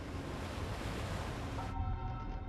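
Rough, choppy ocean water surges through a shallow strait only 50 meters deep, a steady loud wash of broadband surf noise with a wind-like roar that narrows slightly near the end.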